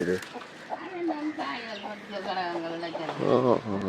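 Chickens cluck and murmur close by, with short fowl calls rising near the end while a person talks over them.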